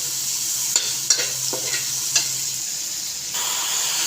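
Onion, chilli and coriander fry in a pan with a steady close sizzle, broken by several scraping stirs at irregular intervals.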